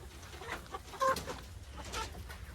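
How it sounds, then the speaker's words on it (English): Several chickens clucking softly nearby on a homestead over a rustling, noisy outdoor background, with one slightly louder cluck in the middle. "we got the chickens."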